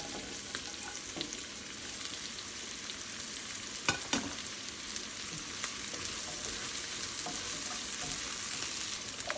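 Chopped bell peppers and onions sauté in a pan, giving a soft continuous sizzle with a few stirring scrapes, fairly quiet and close, with no talking.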